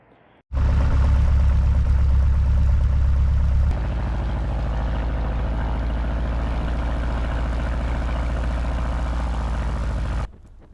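Ercoupe light aircraft engine roaring loud and steady at full power for its takeoff roll across a wet irrigated grass field, heard close up, then easing to a slightly lower drone before cutting off abruptly.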